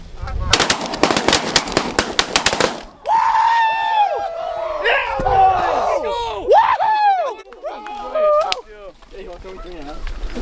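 On a North Dakota duck hunt, a rapid volley of many shotgun blasts cracks out over about three seconds, then loud honking calls and excited voices follow.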